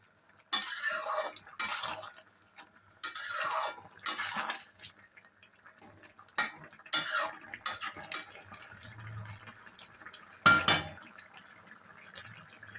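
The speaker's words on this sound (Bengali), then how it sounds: "একটু মিশিয়ে দিই।" Shrimp curry is stirred in a pan, giving a series of separate metallic spoon clinks and scrapes against the pan, loud at first and then sparser, with quiet gaps between them.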